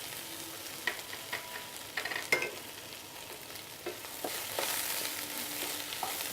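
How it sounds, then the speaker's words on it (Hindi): Chopped green onion, the white part, fries with sauces in a pan for a crispy chicken dish, a steady sizzle under repeated scraping stirs and clinks of the spatula, close and fairly quiet, with no talking. "अच्छे से थोड़ा भून लेंगे इसे"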